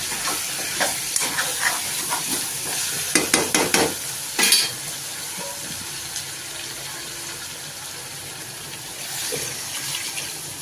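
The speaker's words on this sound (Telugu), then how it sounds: "ఇప్పుడు వాటర్ వేసుకుందాం" Sizzling and hissing from a hot pan, with a few sharp stirring clatters and a brief burst of steam as water hits a country-chicken masala.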